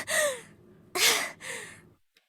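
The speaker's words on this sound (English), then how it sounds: "I could hear myself breathing loudly." Three loud, close breaths in darkness in a visual novel game: a sharp gasp, a heavier gasping inhale, then a softer sighing exhale, with silence between.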